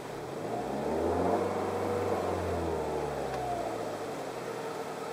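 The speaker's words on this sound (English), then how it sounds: "It has a whining noise that is especially prevalent when it's in gear, whether it's reverse or drive." A Dodge Dart engine revs with a steady whine riding over the low engine drone, the pitch rising and falling slightly as the throttle is blipped, close up and continuous with no talk.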